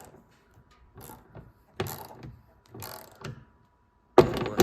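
A hand ratchet tightens a taillight on a Polaris General utility vehicle, giving several short bursts of close clicking separated by pauses, ending in a louder final burst.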